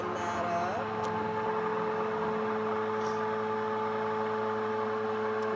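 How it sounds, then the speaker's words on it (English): A KitchenAid immersion blender runs steadily on a low setting in a deep cup, blending a keto drink with a constant close motor whine and whirring liquid. "Then I'm gonna take my KitchenAid immersion blender, just put it down in, blend that up."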